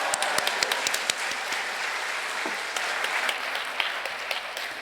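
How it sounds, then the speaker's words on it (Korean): A church congregation applauds to welcome the pastor to the front, with a few sharp, close claps at first and then steady, moderate clapping that slowly thins out. "목사님 나오실 때 할렐루야로 주님께 영광을 돌리며 박수로 환영해 주시겠습니다"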